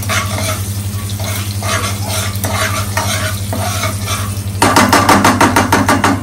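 Mustard seeds, cumin and asafoetida sizzling loudly in hot oil for a tempering, with a spoon scraping the pan in a steady repeated rhythm that turns faster and harder toward the end.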